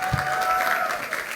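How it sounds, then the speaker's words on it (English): Audience applause at a Harvard Business School MBA diploma ceremony, a short steady clapping wash under someone speaking. "you can clap again"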